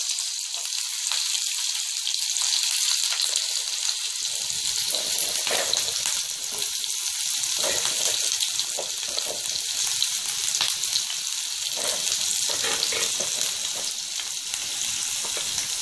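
Sliced large onions fry with cloves and a bay leaf for Tamil Nadu style vadacurry, a loud, steady close sizzle that runs without a break and carries light crackles, with no talking.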